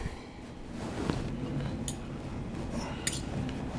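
Raspberry vinaigrette being stirred in a bowl, a soft continuous swirl with a few light clinks of utensil against the bowl, close and fairly quiet.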